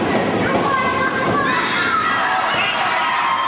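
Spectators at a late-night indoor wrestling show shout and cheer throughout, with children's high yells rising over the crowd and a few dull thumps from the ring.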